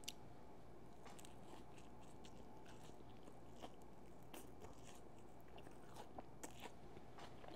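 Crunchy bites and chewing of toast topped with homemade raw sprouts, a steady run of close, crisp crackles and mouth sounds with no talking.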